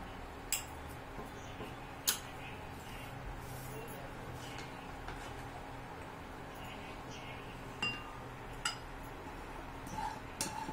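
Chutney for momos is scooped from a pan into a bowl: sharp, separate metal and glass clinks of spoon against cookware at irregular intervals over a steady low background hum, fairly quiet and close.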